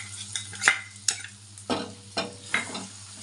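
Egg curry with fried onion paste being stirred in a pan, with about five distinct scraping strokes of a spoon over a soft sizzle, close and clear.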